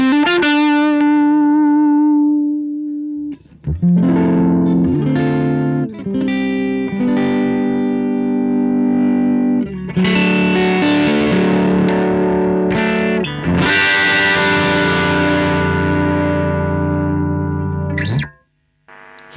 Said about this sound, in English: Here is a really nice amp called the Bassman Cranked 96V.